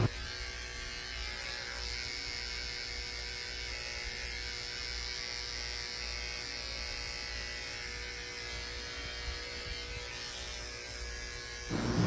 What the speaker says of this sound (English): Shave out the pads of the feet